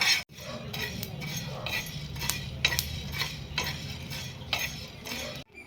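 Coriander seeds dry-roasting in a pan for a masul vadi recipe, stirred with a metal spoon that scrapes and clinks against the pan in repeated strokes, close and alone with no talk.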